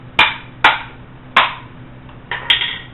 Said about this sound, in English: tapping it loose to break it loose